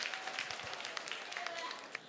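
Scattered audience clapping at a live music show, fairly faint and uneven, with a few sharper claps standing out over a soft background hum.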